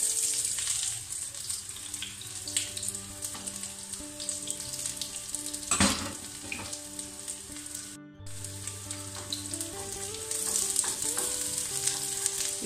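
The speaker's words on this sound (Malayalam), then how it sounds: "ഈ ചെറിയ ഉള്ളി നല്ല പോലെ ഒന്ന് മൂത്തു വരണം." Round-sliced shallots fry in oil in a pan for a Kerala coconut-milk fish curry, giving a soft, continuous sizzle with light stirring clicks and a brief clatter midway.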